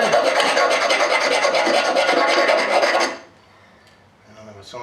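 A hand file rasps out a hinge bushing hole on a GMC Squarebody truck door, a loud, close stream of gritty back-and-forth strokes that stops abruptly after about three seconds, followed by faint rustling.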